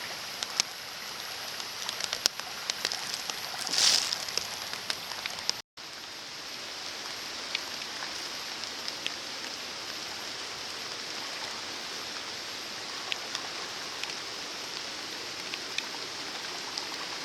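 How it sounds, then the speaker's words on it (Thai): Steady rain hisses throughout in a forest, an even wash of falling water with occasional sharper drops, no voices. "ตอนนี้ก็ฝนตกอยู่"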